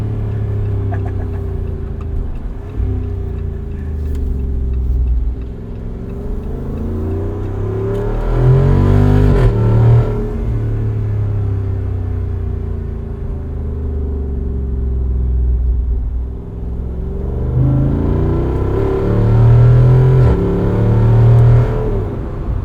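A 2024 Jeep Wrangler 392 V8 driving, its engine rumbling loudly and revving up through gears with rising pitch, dropping at shifts, then climbing again in a second hard acceleration.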